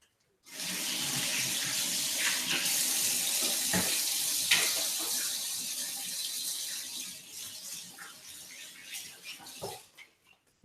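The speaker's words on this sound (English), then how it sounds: "Wash your hands." Water runs steadily from a kitchen sink tap while hands are washed beneath it, a continuous close hiss with small splashes and shifts, tapering off as the flow stops near the end.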